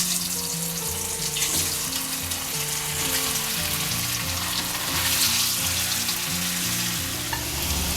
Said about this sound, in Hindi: अब इसमें हम आलू डालेंगे और अच्छा गोल्डन ब्राउन होने तक फ्राई करेंगे